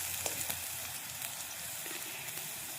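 Crushed garlic paste and green chillies sizzle in hot frying oil, a steady, faint crackling hiss with a few small pops, close and uninterrupted by talk.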